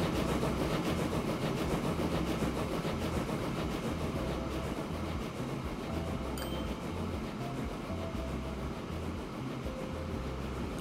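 Steady rumbling drone of a train running in the Train Fever simulation game, with rhythmic low pulses from the wheels and a few faint tonal squeals, continuous and fairly loud with no talk.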